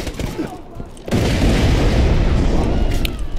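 Grenade detonating in Borderlands 2 combat, a sudden loud close explosion after a second of gunfire-filled game noise, followed by sustained rumbling roar and scattered pops.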